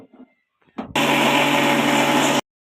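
An electric blender grinding spiced ingredients with sugar and salt into a paste, starting abruptly after a few soft knocks and running as a loud, steady whirring roar for about a second and a half before cutting off.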